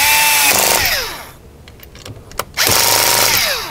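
Power tool tightening a fastener on a 2015 Honda Odyssey sliding door, whirring loudly in two short bursts with a rising and falling pitch, separated by a quieter pause with a few clicks.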